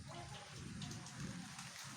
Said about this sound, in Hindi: बहुत ज़्यादा बारिश हुआ थे